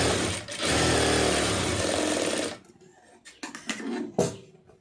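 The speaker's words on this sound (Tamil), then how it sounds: "இப்போ இதை அப்படியே தையல் ஓட்டிக்கலாம்." A sewing machine stitches two pieces of cloth for a beginner's blouse, running as a steady dense whir for about two and a half seconds, then stopping, followed by a few faint clicks and handling noises.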